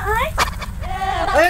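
Goat bleating in a Maithili comedy scene, a few wavering cries, one near the start and a louder one at the end, mixed with people talking close by.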